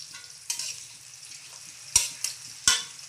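Onions fry in a pan with a soft background sizzle, broken by a few sharp stirring clatters near the end.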